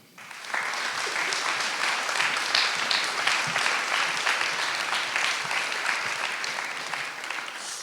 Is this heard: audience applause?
yes